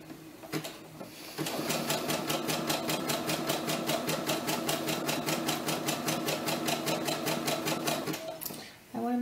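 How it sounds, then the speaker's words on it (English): A Brother SE-400 embroidery sewing machine stitches applique on fabric, its needle hammering in a fast, steady rhythm for several seconds after a few slow starting taps, close and prominent, then stopping abruptly. "Okay, so here we go. We're just going to start sewing."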